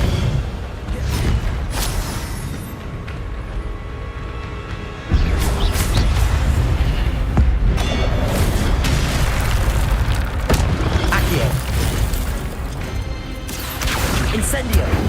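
Incendio fire spell cast in Hogwarts Legacy, a loud whooshing, roaring burst that steps up sharply partway through and stays heavy amid other spell effects and combat noise, with voices around it.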